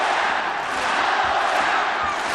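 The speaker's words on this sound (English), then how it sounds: "Listen to the home crowd now, really get behind him." A home crowd roars and cheers continuously at a bantamweight boxing title final, a dense, loud wall of voices filling the arena with no break.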